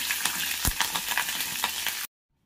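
Cumin seeds, two dried red chillies and fresh curry leaves sizzle hard in hot oil for a tempering, with a steady crackling hiss and a few sharp pops before the sound cuts off abruptly into silence.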